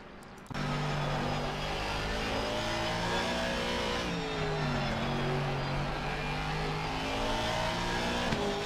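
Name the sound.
Ferrari race car engine in video game Assetto Corsa Competizione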